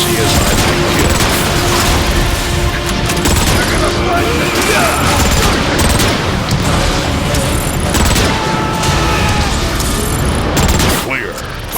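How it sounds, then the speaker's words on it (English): Warp cannons shell a base in the Transformers: Fall of Cybertron video game, a dense continuous barrage of booms and mechanical rattling with sharp bursts throughout, loud and close. "The Ark is getting shelled pretty bad by those warp cannons."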